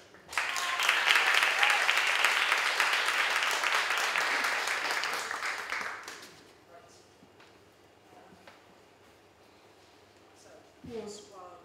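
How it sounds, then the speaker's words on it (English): Cabaret audience applause, a dense burst of clapping for about six seconds that fades out, followed by quiet room noise, a few faint sounds and a short murmur of voices near the end. "so please, a round of applause"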